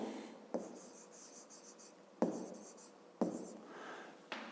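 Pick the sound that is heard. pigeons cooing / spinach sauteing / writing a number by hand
writing a number by hand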